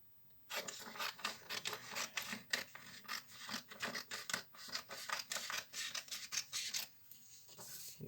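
Scissors cut through paper or cardboard for a homemade Kar98k rifle model, making a steady run of close, rapid snipping and scraping strokes with a short pause near the end. No voices.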